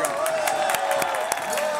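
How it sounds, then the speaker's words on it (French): An audience claps in a medieval-style restaurant in Lille. The claps are brief, scattered and fairly close, over a murmur of voices, and the whole burst is very short. "Merci, applaudissements s'il vous plaît."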